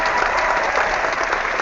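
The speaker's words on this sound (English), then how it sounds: "A round of applause." A short burst of steady audience applause, dense and fairly close clapping with no speech over it.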